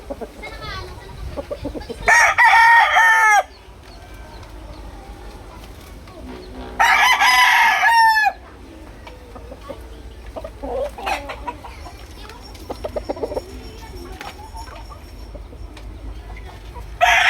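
A two-year-old fighting rooster crows twice in loud, drawn-out calls, with softer clucks and shuffling between, and a voice talks quietly in the background.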